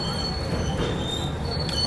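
The Jasidih Vasco Express rolls through Kazipet Junction with a loud, steady rumble of wheels on rails and a thin, high squeal running over it, heard from close by.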